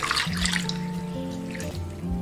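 Soaked glutinous rice is rinsed in clean water with soft trickling and sloshing, faint and close, over quiet steady tones in the background.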